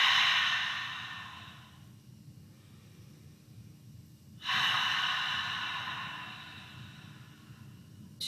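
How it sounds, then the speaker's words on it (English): Slow breathing during a summer self-care yoga practice: a long, airy exhale through the mouth with a soft ha quality fades out, a quieter pause follows, then a second breathy exhale, close and gentle. "breathe out through the mouth. So we'll start with that ha sound."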